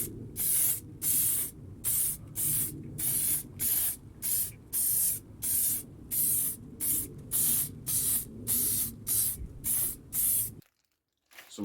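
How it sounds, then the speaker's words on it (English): A clear lacquer coat being sprayed onto a wooden box, heard as a run of about a dozen loud, even bursts of spray hiss with short gaps between them, ending in silence. "I gave it a cheeky coat of clear lacquer."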